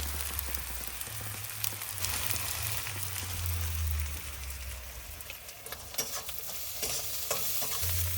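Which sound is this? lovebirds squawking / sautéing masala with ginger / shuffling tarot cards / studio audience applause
sautéing masala with ginger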